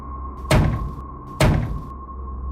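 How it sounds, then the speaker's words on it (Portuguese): Two separate heavy knocks on an apartment door, about a second apart, each a dull thump ringing briefly against a quiet background hum. "deteve-se um momento e finalmente bateu na porta, esperando por uma resposta do outro lado"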